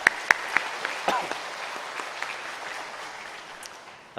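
A church congregation applauds during a Sunday morning worship service, a few sharp loud claps at the start giving way to steady applause that slowly fades.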